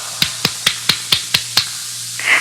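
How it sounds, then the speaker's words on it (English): Seven sharp, evenly spaced slaps of a person patting himself on the back, fairly close and distinct, followed by a brief soft rustle at the end. "That was me patting myself in the back."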